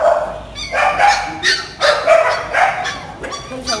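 Several puppies and dogs at a rescue yard in Sa Đéc bark and yip in a busy run of calls, fairly near, while people talk in Vietnamese underneath.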